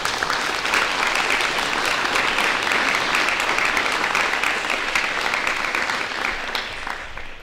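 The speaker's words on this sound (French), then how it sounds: "Vous pouvez applaudir." Sustained applause from an audience at a municipal council installation meeting in Saint-Germain-Nuelles, a steady dense clapping that holds evenly throughout before easing slightly at the end.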